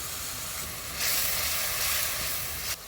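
Chopped onion, turmeric and chili powder sizzle in hot soybean oil for a hilsa curry with red water lily, a steady close hiss that swells louder midway and then briefly drops.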